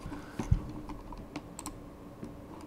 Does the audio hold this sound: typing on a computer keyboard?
yes